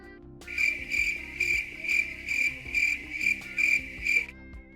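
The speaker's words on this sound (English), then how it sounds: "There we go. Crickets." Crickets chirp as a played sound effect in a steady rhythm of eight pulsing bursts, clear and close, over a soft background tone; no talk.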